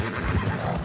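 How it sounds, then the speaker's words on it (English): A horse in the video game Red Dead Redemption 2 neighs continuously at close range, its whinny dense and loud across the moment with no talk over it. "I love this horse so much. What a cool horse."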